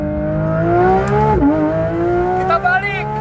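A Porsche 911 GT3 RS runs on a track, its engine note climbing and dipping in clear harmonic sweeps with a sharp downshift mid-way. A voice talks over the engine.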